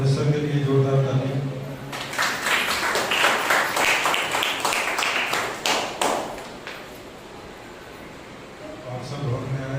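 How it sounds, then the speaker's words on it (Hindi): Congregation clapping loudly during a Sunday morning church service, a burst of dense rhythmic applause lasting several seconds, preceded and followed by a voice speaking over the room. "आइए हम परमेश्वर के लिए जोरदार ताली।"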